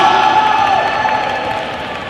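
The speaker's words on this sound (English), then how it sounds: "Round of applause, please. Applause, come on." Audience at a wheelchair rugby Challenge Cup final applauding and cheering, a loud dense burst of clapping and whoops that fades over a couple of seconds.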